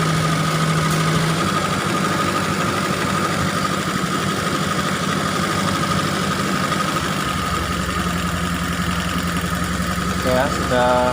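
A Toyota T120SS fuel-injected car engine idles steadily after an ignition repair, a continuous low rumble with a constant hum, close by and loud throughout, with someone talking over it.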